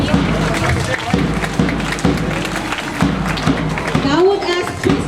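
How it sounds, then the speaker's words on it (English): Clapping from students and guests at a school investiture ceremony, scattered claps and thuds heard beneath a speaker's voice over a loudspeaker as officeholders are announced, the applause fairly close and uneven. "Just clap for them."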